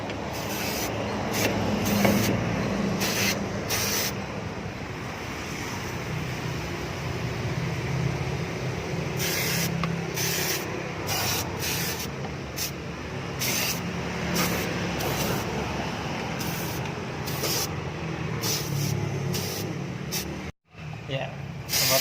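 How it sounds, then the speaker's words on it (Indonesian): Aerosol cleaner hisses steadily onto a dirty, slightly warmed engine, a long broadband spray with short bursts and pauses, while someone talks over it throughout. "Setelah agak hangat kita semprotkan ini guys, kita sekarang semprot guys ya, semprot guys."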